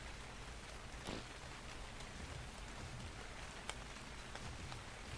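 Steady rain falls in Ark: Survival Evolved, a faint, even hiss with occasional soft drop-like ticks and no voices.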